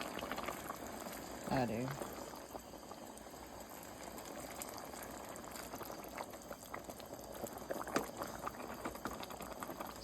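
A pot of Southern turnip greens with small turnip roots boils at a low, steady bubble, soft and continuous, with a brief spoken phrase early on.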